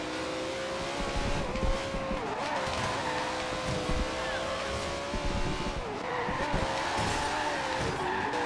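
Turbocharged race cars in the Forza Horizon 2 video game on a circuit race, engines droning with repeated tire squeals and skids as they corner, continuous and close.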